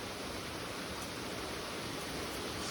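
A waterfall on a remote mountain creek in the bush pours as a steady, dense roar of rushing water, loud and unbroken throughout.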